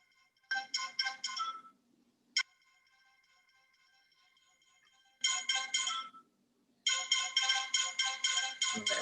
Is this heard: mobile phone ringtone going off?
yes